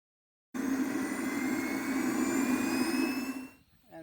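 Model jet aircraft engine spooling up for takeoff, a loud steady turbine roar with rising high whine lasting about three seconds, then dropping away near the end.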